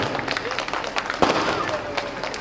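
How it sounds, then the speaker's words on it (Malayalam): An audience at a school annual day gives a burst of dense, continuous applause with crowd noise, loud and close, filling the whole moment. "എല്ലാ വിദ്യാർത്ഥികൾക്കും നമുക്ക് ഒത്തൊരുമിച്ച് ഒരു കൈയടിയോടെ അവർക്ക് നമുക്ക് നന്ദി പറയാം"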